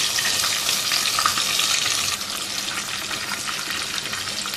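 Chicken masala sautéing with tomato paste in a pan for Mughal chicken changezi, a dense, steady bright sizzle that stays loud and even throughout with no voices.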